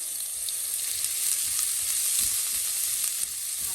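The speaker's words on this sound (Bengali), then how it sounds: "আমার পেঁয়াজটা হালকা বাদামি করে ভাজা হয়ে গিয়েছে" Finely chopped onions, about half a cup, fry to light brown in a pan with a steady, close sizzle and a few faint stirring taps, and no voices.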